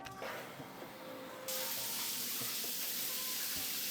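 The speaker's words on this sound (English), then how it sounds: "Now it's time for a very, very well-needed shower." A shower runs after a run, its broadband spray of water starting abruptly partway through and then hissing steadily and loudly to the end, with no talking.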